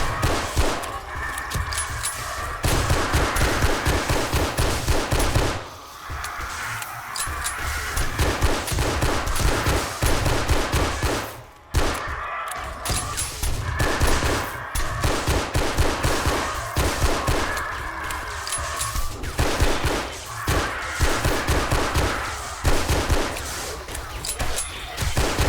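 Rapid bursts of automatic gunfire from a zombie horde-night defense in the video game 7 Days to Die, loud repeated volleys with brief pauses between them and no talk over the shooting.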